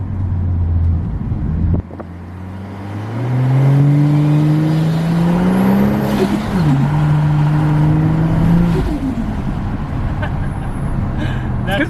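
A Ford XR6 Turbo accelerates hard, its engine note climbing steadily, dropping briefly at a gear change and then rising again, with wind buffeting the microphone.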